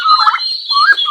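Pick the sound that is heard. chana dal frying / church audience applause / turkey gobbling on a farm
turkey gobbling on a farm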